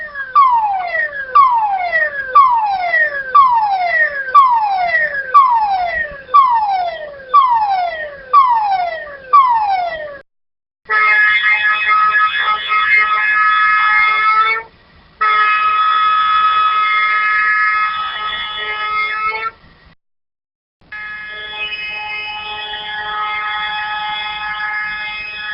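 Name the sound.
industrial emergency siren codes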